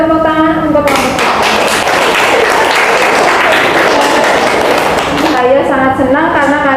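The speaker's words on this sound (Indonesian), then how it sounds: "berikan tepuk tangan untuk kelompok 3" A physics class breaks into loud applause for group 3, a dense burst of clapping that lasts several seconds while a teacher's voice talks over it at the start and at the end.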